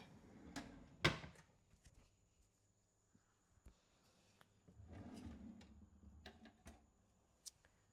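A kitchen drawer is handled during decluttering, with a sharp clack near the start, a rumbling slide in the middle and scattered light clicks and taps from utensils, all fairly quiet.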